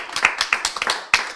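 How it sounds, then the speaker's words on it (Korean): An audience at a Bible lecture claps briefly, a quick run of sharp, close hand claps in an uneven rhythm over little more than a second. "박수."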